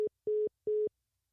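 A phone line tone after a dropped call: three clean electronic beeps of equal pitch, each roughly a fifth of a second long and separated by short silences, clear and alone.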